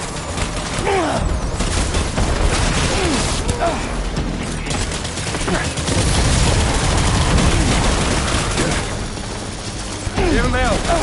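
Bursts of gunfire and booms in the video game Death Stranding, dense and loud over a thick mix of game noise, with voices shouting orders amid the shooting.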